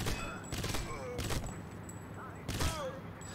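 Automatic rifle fire in the video game Crysis comes in a few short bursts separated by pauses, loud and punchy, with someone talking between the volleys.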